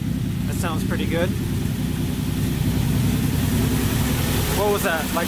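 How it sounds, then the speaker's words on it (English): A loud, steady Datsun 280Z engine rumble with no exhaust fitted, at around 2,000 RPM, drones on without pause, with a few faint squeaky chirps over the top at the start and end. "this is how it sounds without the exhaust on there, and it is actually pretty loud"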